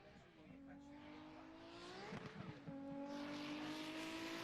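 A race car on the Slovakia Ring circuit runs at full throttle, its engine note climbing through the gears with a gear change midway, under steady commentary in the foreground.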